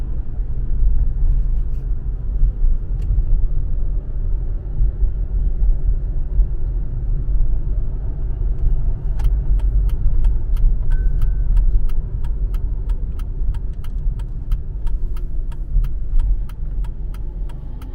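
A Mercedes-Benz car driving on back roads, heard from inside the cabin as a steady low engine and road rumble that builds while it gains speed, with a light rhythmic ticking in the later part.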